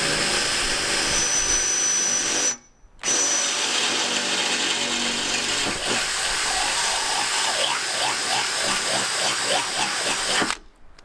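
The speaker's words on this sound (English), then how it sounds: "The second one definitely a steel drill bit, but working with what we've got." A power drill fitted with a steel bit widens a hole in the body of a Volvo V40, running in a long loud whine with a short pause, then stopping near the end, close by.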